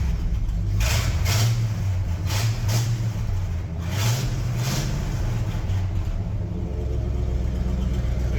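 A classic car or tractor engine running a little rich, loud and close throughout, its low drone rising in a few revs before hanging at a higher idle and settling down.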